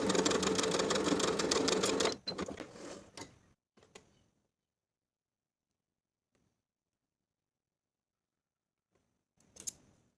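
A sewing machine stitches a dart on a lined tie-front vest in a steady burst of about two seconds, followed by clicks, thread handling and near silence, then a brief clatter at the end.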